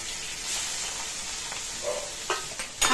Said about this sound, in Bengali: তেল গরম করে নুন হলুদ মাখিয়ে চিংড়ি মাছ ভেজে নিচ্ছি